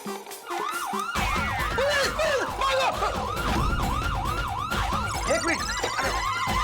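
A loud wailing police siren in a Hindi TV sitcom scene, rapidly rising and falling over and over, close and continuous, layered with other siren tones.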